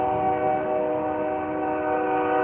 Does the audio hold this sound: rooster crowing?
no